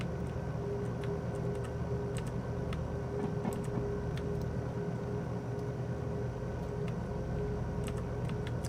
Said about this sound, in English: The clicking is the solenoids in the train.